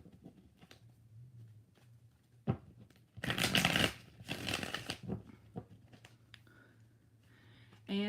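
Tarot cards are shuffled in several brisk bursts, crisp riffling up close, separated by quieter pauses with faint handling noise.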